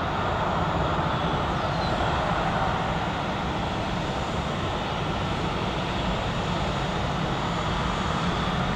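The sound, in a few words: Airbus A320neo jet airliner at Orlando airport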